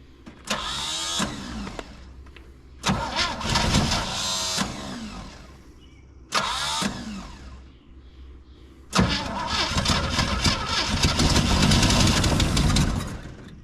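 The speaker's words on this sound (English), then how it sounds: "give it another crank" A 1963 Chevy Nova engine cranking in several separate bursts, the starter churning loudly before the engine briefly catches and then runs on in a longer rough stretch at the end, close up with no talk.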